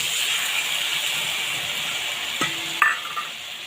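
Pointed gourd simmering in a pan with turmeric and mustard paste gives a steady close cooking hiss, broken by a couple of faint clinks toward the end.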